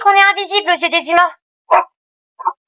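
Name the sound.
dog barking in the video game Angel Friends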